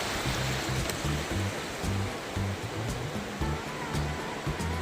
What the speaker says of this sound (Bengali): পায়ের কাছে এত ঢেউ আসছে